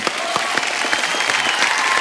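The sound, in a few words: studio audience applause for Simmba star cast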